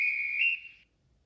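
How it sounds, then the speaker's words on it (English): A single sharp, shrill train guard's whistle blast from a Graham Farish Class 108 DMU model's sound system, loud and steady for about half a second before trailing away into quiet. "The guard's whistle."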